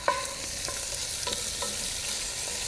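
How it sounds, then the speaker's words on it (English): Stir fry sizzles in a pan over a campfire, making a steady close hiss broken by occasional light clinks of stirring, with no voices. "so you can hear the sizzling."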